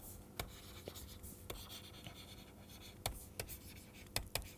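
Chalk or marker writes on a board during a lecture, faint scratchy strokes and sharp taps scattered irregularly over a quiet room hiss.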